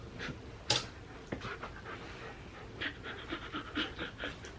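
A pet dog pants in quick, rhythmic breaths close by, with a sharp scuffle or thump early on and no talking.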